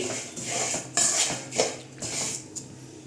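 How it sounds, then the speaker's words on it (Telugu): Semiya vermicelli stirred in a pan over a low flame while it fries to a brown colour, with close metallic scraping and clinks of a spoon against the pan in uneven strokes. "ఇలా నీట్గా లో ఫ్లేమ్లో మనం మంచి బ్రౌనిష్ కలర్లో ఫ్రై చేసుకుంటూ తిప్పుకుంటూ ఉండాలండి"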